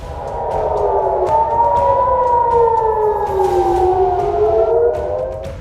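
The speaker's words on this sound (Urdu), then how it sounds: "تل ابیب میں خطرے کے سائرن بج اٹھے۔" Air raid warning sirens wail over Tel Aviv during an Iranian missile attack, a loud sustained rising and falling drone heard alone.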